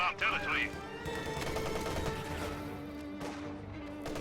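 Rapid bursts from a .50 cal machine gun ring out in a World War II style multiplayer video game match, loud and sustained under a faint game soundscape.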